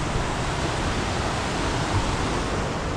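Steady, broadband rushing of a waterfall close beside a cement bridge in a village setting, a dense continuous roar at even loudness throughout with no voices.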